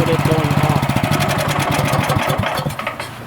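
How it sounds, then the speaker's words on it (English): Snowblower engine idling low after a carburetor replacement for a fault where it only ran on choke and leaked fuel, a loud, close, rough pulsing putter with uneven beats, slightly fading at the end. "This is as low as I'll get it to idle without it going off."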